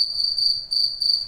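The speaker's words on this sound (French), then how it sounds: "Un grillon dans la chambre, je sais pas où il est. Ça fait un bruit de ouf." A cricket chirps indoors in a bedroom, a loud shrill continuous trill close by, broken by a brief pause partway through.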